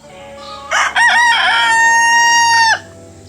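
A rooster crows loudly and close by at a muddy chicken coop, one long strained call after a couple of short clucking notes.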